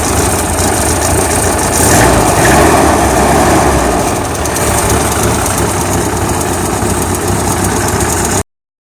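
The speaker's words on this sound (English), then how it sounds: "she's absolutely idling fine and running fine as before." A Suzuki Samurai engine idles steadily after its carburetor has been cleaned, with a loud, close, even rumble and a constant mechanical hum throughout before it stops suddenly.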